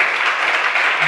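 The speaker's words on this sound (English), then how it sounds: "Please a round of applause." A conference audience at a breakout session on e-privacy enforcement breaks into brief, even applause, a dense patter of many hands that fills the short moment at a fairly loud, steady level.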